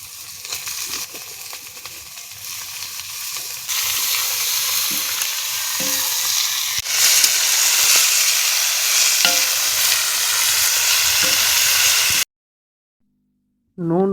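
Goat tripe and browned onions fry in oil while being stirred, giving a loud, continuous sizzle with repeated scraping strokes for about twelve seconds before a sudden break into silence and a brief sound at the end.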